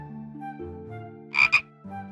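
A frog near a pool gives two quick, loud croaks over a soft background of sustained musical tones.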